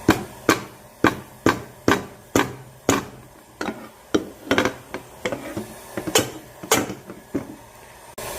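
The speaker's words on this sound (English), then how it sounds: "Now I got a rubber hammer. This is going to be stuck" Repeated sharp blunt rubber hammer blows on a stuck oil pump part, around fifteen strikes in an uneven rhythm, close and loud with no talking.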